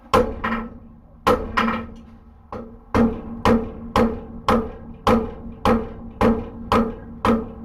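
Steady hammer blows on hot steel as a tapered scarf is forged for box jaw tongs, about a dozen sharp ringing strikes in an even rhythm with short pauses between groups, close and loud with no talking.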